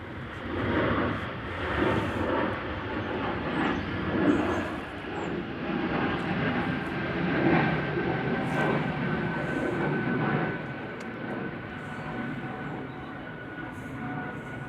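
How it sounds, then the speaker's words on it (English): An Aer Lingus UK airliner in from JFK makes its approach to Manchester Airport on a gusty day, giving a steady broadband engine roar at moderate distance that swells and fades gently and carries on throughout. "Got Aer Lingus UK from JFK,"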